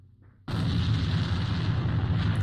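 A grenade detonating in the shooter game A.V.A during a tournament match, a sudden loud blast that rolls into a sustained, dense rumble after a brief quiet start.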